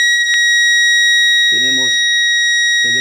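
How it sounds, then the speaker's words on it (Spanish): An Arduino buzzer alarm signalling a full tank sounds as a loud, steady high-pitched electronic tone held throughout, while a person speaks over it in short bursts. "la alarma sonora con el buzzer, indicando tanque lleno"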